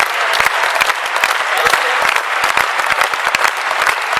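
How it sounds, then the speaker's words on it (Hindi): Audience applause at a Hindi poetry recital, a dense, steady burst of many hands clapping close by and continuing without pause throughout. "आप भी तालियां बजाओ"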